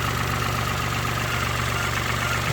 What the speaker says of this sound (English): so just bought this Peugeot 107 1 litre engine.